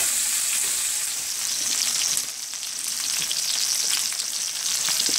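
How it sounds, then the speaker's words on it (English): Pork chops and onions fry in a hot pan, giving a loud, steady crackling sizzle throughout with small pops and the occasional scrape of stirring. "So the chops have been in the pan about 2 minutes now. Just kind of stirring the onions around so both sides get fried."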